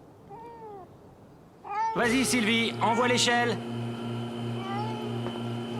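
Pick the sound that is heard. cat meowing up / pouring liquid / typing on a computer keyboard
cat meowing up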